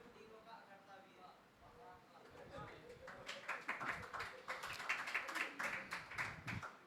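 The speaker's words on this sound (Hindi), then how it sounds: "तालियां बजा दी सबने" Applause from a seated audience at a spiritual teaching camp lecture. It starts faint under speech and then builds into a run of quick, fairly close handclaps over the last few seconds.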